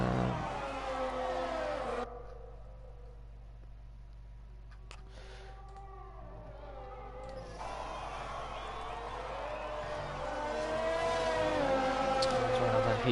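A race car engine in an F1 game at the British track drones and whines down the long straight, a sustained tonal roar that drops away briefly midway and then returns louder with rising and falling pitch, under low commentary.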